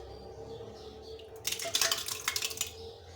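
Yogurt going into a bowl for salted Punjabi lassi, heard as a short burst of clinking and scraping of a utensil against the bowl after a quiet start.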